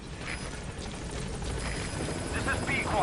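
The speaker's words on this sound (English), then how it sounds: "Helicopter." A helicopter in Metal Gear Solid V arrives with a steady rotor drone that builds gradually in loudness over a few seconds, with no talk over it.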